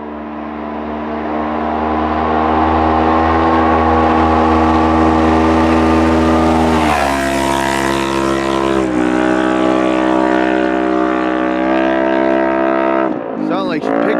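The Aftermarket Assassins RS1 accelerates hard, its loud, droning engine note rising in pitch, then dropping and climbing again as it shifts up through the gears, with a sharp burst of noise at the end.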